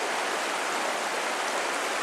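Wilderness stream water rushing down and spilling into a fishing pool, a loud, dense, continuous broadband wash with no pauses.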